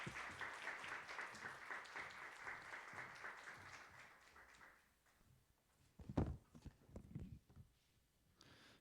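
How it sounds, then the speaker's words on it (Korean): A church youth winter retreat congregation applauds to welcome a missionary onto the stage, steady clapping that fades out midway, followed by a few thumps and shuffling sounds. "우리 최엽 선교사님 나오실 때 큰 박수로 환영해 주시면 감사하겠습니다"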